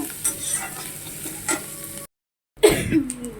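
Onions fry and sizzle in a pan while being stirred, a steady crackling hiss with scraping pulses. The sound briefly cuts out, then returns louder with stirring.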